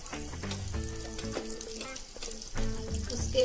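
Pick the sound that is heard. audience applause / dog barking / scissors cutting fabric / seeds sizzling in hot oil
seeds sizzling in hot oil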